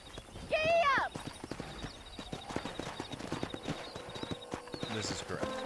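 Horses clip-clop along in Red Dead Redemption while a lasso wrangling scene plays, opening with a loud whinny, then a steady run of close hoofbeats with voices talking over them.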